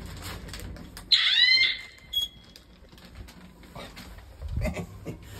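A fire alarm going off indoors: a single short, shrill electronic beep rises out of a quiet room, followed by faint shuffling and low background noise.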